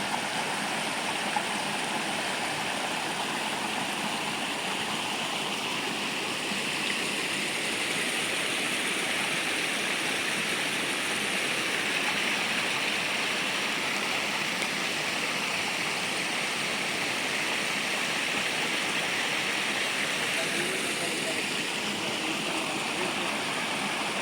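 River water rushes steadily past a stream intake at Dharan, a continuous broadband roar with no break across the whole stretch and no voices over it.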